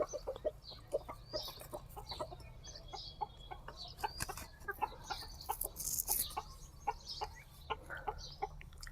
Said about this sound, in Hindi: ये प्योर देसी मुर्गी।